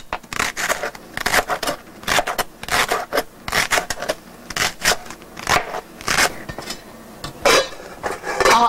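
Sandy food is washed by hand in a bowl, giving a run of close, irregular scratchy rubbing and gritty scraping bursts with occasional clatter against the container, fairly loud and with no talking.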